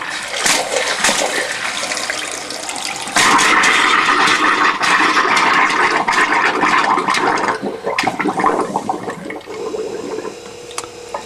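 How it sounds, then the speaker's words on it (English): Water and spitting air gush from a hot tap as a static park home's plumbing is drained for winter, a loud rushing flow with sputtering bursts that rises, holds, then breaks into uneven splutters. "there will be that spit of air coming out after the water"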